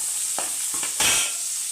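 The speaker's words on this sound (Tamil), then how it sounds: "பூண்டு, கருவேப்பிலை, வெங்காயத்தையும் ஆட் பண்ணிடலாங்க. இது நல்லா பொன்னிறமாக வரைக்கும் வதக்கிடலாம்" Garlic, curry leaves and onion sauté in a pan, a soft continuous sizzle broken by a few quick spatula scrapes.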